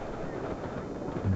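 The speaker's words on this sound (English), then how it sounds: "you can see just how windy it is" Strong gusts buffet a camera microphone outdoors by a rail trail, a steady loud rumbling roar with heavy low-end thumping that swells near the end, with no voices over it.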